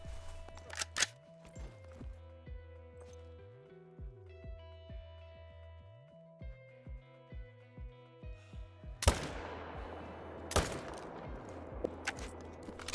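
Rifle shots fired at mule deer in a hunting video game: several sharp, loud cracks spaced apart over a quiet, humming background, with a sudden burst of louder blasts near the end.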